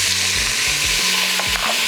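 Onions hitting hot oil in an Instant Pot for beef stew, loud close frying hiss with quick stirring scrapes and clunks as they are tossed around, no voices.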